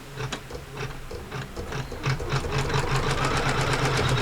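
Sewing machine running steadily as it stitches through quilting fabric, a rapid mechanical whir with rhythmic needle clatter that builds slightly in loudness, close and alone without voices.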